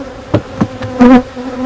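Honey bees buzz at a beehive, with several bees passing close by in short loud buzzes and one longer, steadier buzz near the end.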